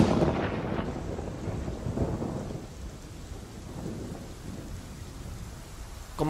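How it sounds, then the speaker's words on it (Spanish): Loud thunder rumbles close at the start over heavy rain, then fades to a steady downpour in a mountain valley, with no voices. "un trueno hizo retumbar el valle entre montañas en el que ahora nos encontrábamos, y segundos después una tupida lluvia descargó sobre nosotros"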